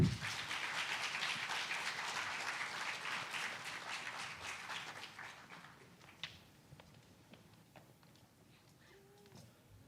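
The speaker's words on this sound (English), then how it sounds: "Let's have another big round of applause for them." Applause from a live audience after a stage performance at a college cultural festival, dense and loud for about five seconds, then thinning into scattered claps that fade out.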